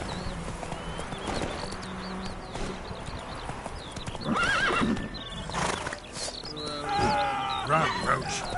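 Roach the horse gallops in The Witcher 3, steady hoofbeats clip-clopping along with occasional neighs and whinnies over background ambience, while voices speak intermittently.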